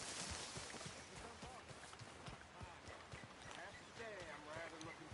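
Horse hooves clip-clopping at a steady walking rhythm in the video game Red Dead Redemption 2, repeated soft thuds under characters talking and background game ambience.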